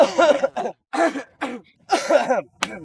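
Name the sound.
people coughing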